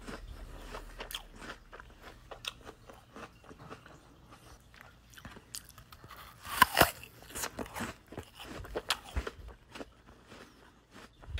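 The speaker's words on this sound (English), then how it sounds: "hearing other people make chewing sounds" People chewing crunchy food up close, with repeated crisp bites and crunches in an irregular rhythm, quiet overall with a louder burst of crunching midway.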